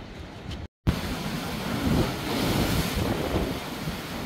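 Ocean surf breaking near the fishing village of Klima on Milos, Greece, a loud continuous wash of waves mixed with heavy wind buffeting the microphone, broken by a short dropout near the start.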